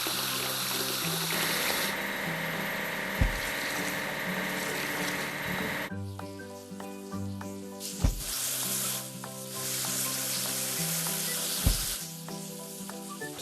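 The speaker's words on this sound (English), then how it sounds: "Let's wash the railroad excavator." Spraying water washes down a railroad excavator in a children's construction game, with a steady hissing wash that shifts partway through and a few sharp clicks or thumps over the spray.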